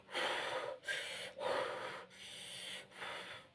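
A woman in labour breathing in a controlled way through a contraction, with five strong, breathy, close exhalations or sniffs separated by short pauses and no talk.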